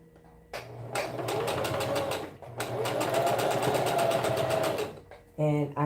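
A sewing machine stitches fabric to turn lower bell sleeves into puffs, running in two sustained rapid bursts of fast rhythmic needle clatter, close and clear, followed by a short pause and a brief restart.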